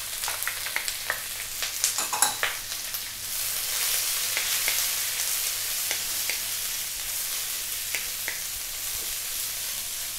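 Cauliflower and carrots with garlic, ginger and onion are stir-fried in a pan: a loud sizzle runs under sharp, irregular clacks and scrapes of stirring that cluster early, then settle into a steady fry.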